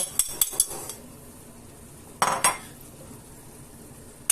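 Fried vegetables are spooned into a pot of cooked buckwheat porridge, with several metal clinks and scrapes of a utensil against the pot at the start and again midway, in a quiet kitchen.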